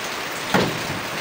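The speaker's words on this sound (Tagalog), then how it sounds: "Umuulan." Rain falling outdoors around a house with old, rotted, hole-ridden gutters, a steady broadband hiss with one brief louder splash or gust near the middle.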